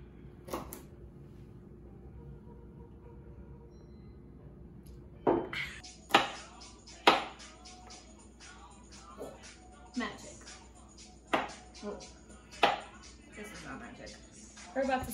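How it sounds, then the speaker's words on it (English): A knife chops carrots for a Christmas pot roast, beginning after a quiet lead-in, then a series of sharp, unevenly spaced knocks on the board, moderately close and fairly soft. "Cutting up the carrots for the roast."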